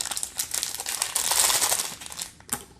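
Bag of crumb topping being cut open and handled during home coffee cake baking, with close, dry crinkling and snipping rustles building to a denser burst midway, then a final sharp crackle.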